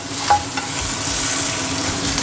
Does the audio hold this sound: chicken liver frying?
yes